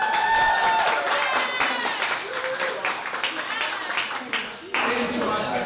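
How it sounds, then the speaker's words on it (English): A crowd applauds steadily through a speaker series event, dense clapping mixed with some cheering and voices, dipping briefly near the end before swelling again. "can we get a huge round of applause for Brian?"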